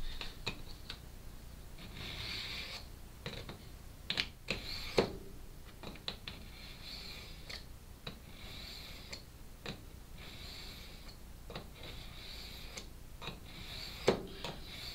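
A knife being drawn repeatedly through a small Benchmade keychain sharpener, giving faint, close, scratchy rasping strokes in an irregular rhythm with occasional light clicks and taps, no talking.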